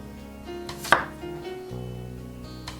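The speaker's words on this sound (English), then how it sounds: "I'm cutting it as wedges like this, and I'm keeping the skin on" A knife cuts skin-on Yukon Gold potatoes into wedges on a board, with one sharp chopping knock standing out among quieter taps and light clinks, close and alone.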